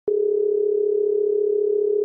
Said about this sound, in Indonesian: Intan melakukan panggilan telepon ke Nova.